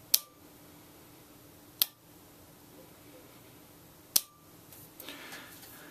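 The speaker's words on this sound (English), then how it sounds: "you may be able to hear the little click from the relay body, which is the coil actuating" Small electrical relay in a low-voltage off-grid solar setup clicking as its coil actuates, three sharp, faint isolated clicks spaced a couple of seconds apart in an otherwise quiet room.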